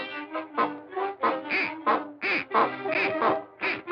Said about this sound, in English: picks up the duck and starts squeezing the duck to make a honking sound